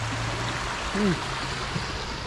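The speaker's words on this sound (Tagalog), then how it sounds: "malakas kasi yung agos ng tubig" Strong current of a stream rushing steadily, a continuous broadband wash of flowing water with a brief tonal blip midway and a low hum underneath.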